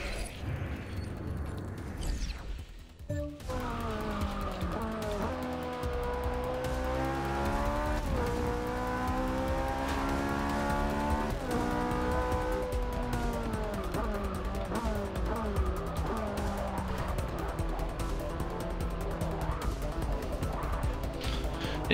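A Ferrari 458 Speciale in a racing game at Spa roars steadily at high revs, its engine note climbing and dropping through gear changes after a brief dip in sound, loud and continuous throughout.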